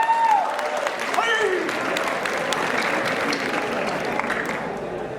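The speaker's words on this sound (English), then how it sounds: "A huge round of applause." Applause from a school farewell audience as a staff member is called to the stage fills the whole stretch at a steady, fairly loud level, with a few whoops and voices mixed in.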